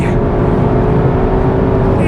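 A Cupra car's engine drones hard during a track lap, a loud, steady, close roar with no clear break for a gear change.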